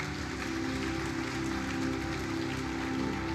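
Sustained congregational applause fills a church for several seconds, a dense, steady wash of clapping with no pauses, heard alone without speech over it.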